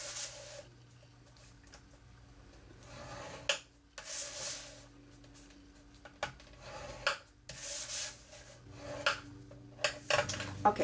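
Cardstock being scored on a Simply Score board for the base of a box, heard as quiet scraping and rubbing strokes in short bursts, close by with pauses between, no talking.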